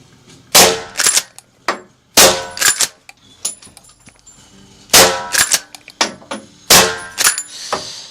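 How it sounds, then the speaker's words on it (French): Four rifle shots ring out at a running boar target, sharp loud cracks spaced a second or more apart, each followed by metallic clanks and handling clatter at close range. "je vais mettre 4 munitions dans la carabine. On va tirer 2 balles à l'aller, 2 balles au retour."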